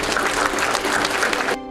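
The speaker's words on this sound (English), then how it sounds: "Give yourselves a round of applause." Audience in a leadership keynote hall breaks into dense, steady applause, loud and continuous for about a second and a half before cutting off abruptly.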